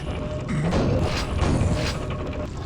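A lift mechanism starting in the video game Quake, a short burst of grinding, clanking machinery with low thumps, steady and fairly loud throughout.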